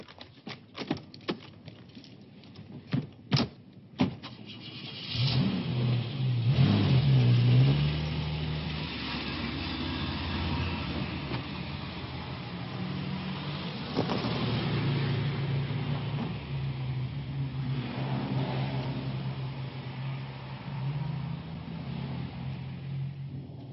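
A car engine hums and builds as the vehicle drives and accelerates, a sustained mid-level drone with rising surges, preceded by a few sharp clicks in the opening seconds.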